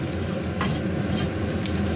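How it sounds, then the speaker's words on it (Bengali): Onion frying in a pan in a home kitchen, a steady close sizzle with light stirring and soft scraping running through, no voices. "পেঁয়াজটা ভাজা হয়ে গেছে"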